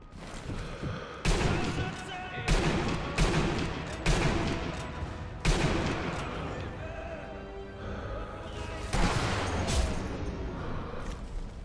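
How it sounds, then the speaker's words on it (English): Enemy soldiers fire in Sniper Elite V2, sending repeated sharp gunshots and short bursts at irregular intervals, each ringing out into an echoing decay across the battlefield. "I just saw guys start shooting."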